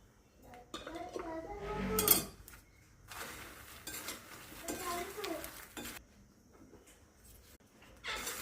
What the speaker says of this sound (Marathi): मिक्स करून घेऊ थोडा चाट मसाला स्प्रिंकल करून घेऊ